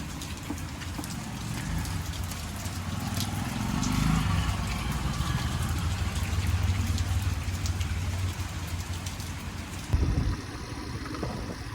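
Steady rain falls continuously on a wet hillside in the Mandaramnuwara area, a dense broadband hiss with a low rumble beneath it and a brief louder patter near the end.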